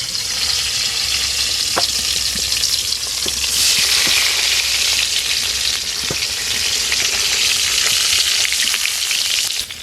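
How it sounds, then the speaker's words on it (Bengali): Eggplant pieces frying in soybean oil, left over from frying eggs with turmeric and salt, give a steady, close, loud sizzle throughout, with a few sharp pops and spatters breaking through. "বেগুনগুলো ভেজে নিচ্ছি।"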